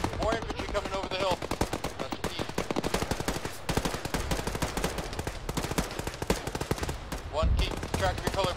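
Rapid machine-gun bursts and rifle shots fill a military game (ShackTac), with dense, loud, rhythmic staccato firing throughout and radio-style voices talking over it.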